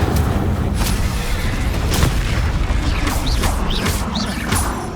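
Fire spell blasts in the Hogwarts Legacy video game go off as dense, loud booms and crashes, mixed with whooshing magical bursts and rising sparkly tones in a continuous combat din.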